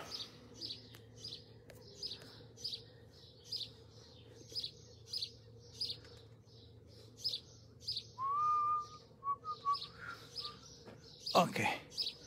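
Birds chirp near Lake Garda in a steady run of short, repeated calls, moderately close, with a brief whistled note and a sharp burst near the end over a low background hum.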